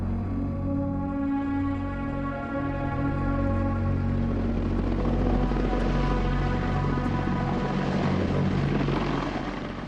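An unmanned Little Bird light helicopter drones steadily overhead, its rotor and engine producing a loud, continuous humming whine with a rhythmic chop.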